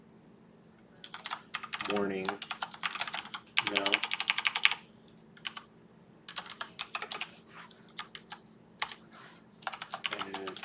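Quick bursts of typing on a computer keyboard while entering compiler directives for a Win32 C program, the clicks close and busy, coming in several runs with short pauses and someone speaking briefly between them.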